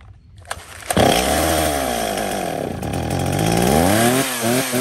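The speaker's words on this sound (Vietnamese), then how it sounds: "Test nổ luôn cho bác nghe qua tiếng máy nhá." A professional logging chainsaw with a .325 chain, a used Japanese-market unit, starts with a pull and then revs up loud and close, holding a high whine before dropping back to idle and blipping the throttle.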